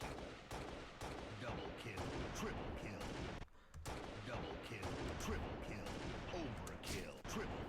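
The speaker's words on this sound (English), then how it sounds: "Listen to the DMR, because I actually have it echo, because I wanted it to continue going with the beat" Echoing DMR and sniper rifle shots from a video game montage, cut to a beat, form a dense, loud wall of repeated cracks with a brief dropout midway.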